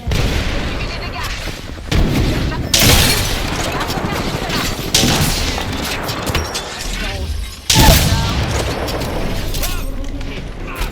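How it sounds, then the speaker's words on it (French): Apex Legends thermite grenade thrown and bursting, heard as loud broadband blasts and crackling fire amid continuous dense game combat noise, with several sharp surges over the stretch. "Je lance une grenade thermique."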